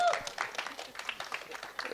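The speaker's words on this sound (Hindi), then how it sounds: "एक बार तालियां हो जाए।" Audience members at a gathering with a singer clap faintly, light scattered claps heard at a low level with a voice speaking over them.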